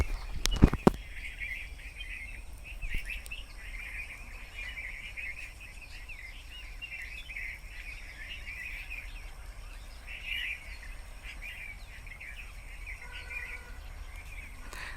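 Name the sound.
birds chirping in a village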